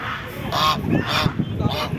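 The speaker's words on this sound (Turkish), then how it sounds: "Şu bir büyük kaz galiba" A large goose at a live animal market gives several loud, close honks in quick succession, with market noise behind.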